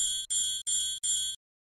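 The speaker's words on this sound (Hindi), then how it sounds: "जैसे ही विद्युत घंटी का परिपथ पूर्ण होता है ध्वनि सुनाई पड़ती है" An electric bell inside an airtight glass jar hooked to a vacuum pump rings loudly in four quick bursts, each ringing bright and metallic, then cuts to sudden silence.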